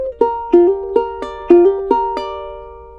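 A charango plays a short practice lick of about eight plucked notes in a quick, clear phrase, close and bright, with each note ringing briefly before the next.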